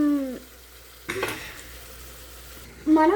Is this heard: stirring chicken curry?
yes